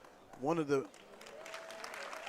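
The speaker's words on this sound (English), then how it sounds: "as she gets up, a round of applause" Applause from a crowd at a WCAC girls' high school basketball game between Good Counsel and Bishop McNamara, greeting a player as she gets back up. A commentator's voice speaks briefly first, then a steady, moderate patter of clapping fills the gym.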